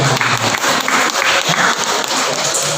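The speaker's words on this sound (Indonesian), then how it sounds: "Tepuk tangan untuk Bawean." A workshop audience claps loudly and close by, a dense burst of applause filling the short moment without pause.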